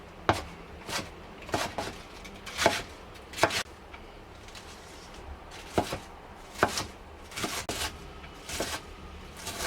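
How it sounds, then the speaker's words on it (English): Knife chopping cabbage into small pieces on a cutting board for okonomiyaki, sharp close thuds in irregular bursts of quick strokes with short pauses between, over a faint steady background hum. "What we put inside of the okonomiyaki is mostly the cabbage, so I'm gonna cut into small pieces."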